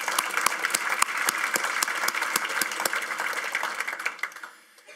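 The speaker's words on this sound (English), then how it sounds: "let's get a round of applause" Conference audience applauding in a large hall, a sustained dense wash of many hands clapping that continues steadily before tapering off to a few stray claps at the end.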